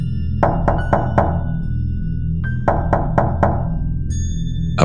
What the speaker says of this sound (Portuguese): A porta do avô bate por dentro.